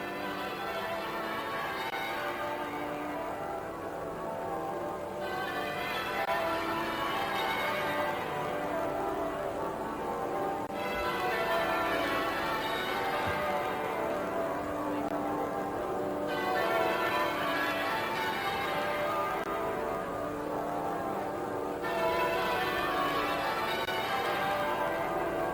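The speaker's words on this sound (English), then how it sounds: "Westminster Abbey again, the bells still tolling" Church bells tolling at Westminster Abbey during Princess Diana's funeral in 1997, slow regular strokes recurring about every five to six seconds, ringing over a steady crowd and broadcast ambience.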